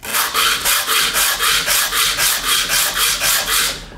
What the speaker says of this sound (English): just rub it back and forth until you get a nice flat edge on the top and the bottom